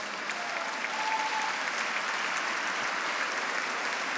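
A gala audience gives the standing board of directors a round of applause: a sustained, even roar of many hands clapping at once, holding at a steady level from start to finish.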